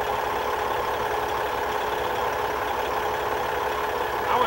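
A semi truck's engine running after treatment with No Más Fricción additive, a steady mid-to-low idling hum with even pulsing, close and continuous, with no voices.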